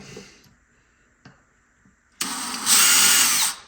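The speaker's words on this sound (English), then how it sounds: "Just going to drill it through." A power drill with a 1/4-inch bit bores through the fiberglass top of a Hiwatt DR103 amplifier build. A few faint clicks come first, then a sudden loud, steady whine of the drill cutting for over a second, heard alone.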